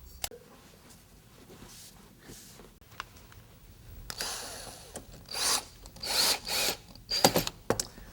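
Power screwdriver bursts driving 1 1/4 inch screws into the side bracing of a concrete countertop mold, several short whirring runs in the second half, close and fairly loud, with faint handling noise before them.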